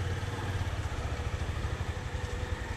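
A motorcycle engine runs steadily on a training track with a low, pulsing rumble that holds at a constant, fairly loud level throughout, with no voices.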